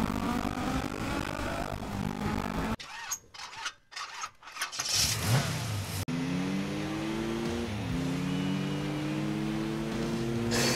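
Honda Integra in Gran Turismo 4, its engine droning steadily with rising and falling revs, interrupted midway by a few seconds of choppy, broken noise before the steady engine tone returns.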